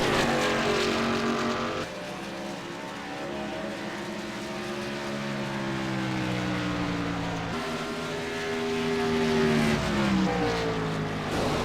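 Race cars roar around the track during a broadcast race, several engines droning and rising in pitch as they pass, loud and continuous with layered revving from a distant pack.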